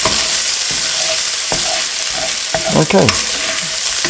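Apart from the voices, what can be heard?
onions frying and being stirred in a pan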